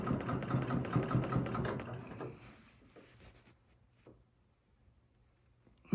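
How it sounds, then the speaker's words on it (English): A sewing machine stitches in the ditch on a beanie, running in a steady, close-up mechanical whir for about two seconds. It then stops, leaving quiet handling noises and a faint hum. "I need to stitch a little bit more down my ditch."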